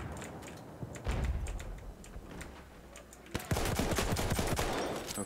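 Battlefield 1 video game gunfire crackles in rapid bursts, dense clusters of sharp shots, sometimes under the quieter clicking of a computer keyboard, growing heavier toward the end.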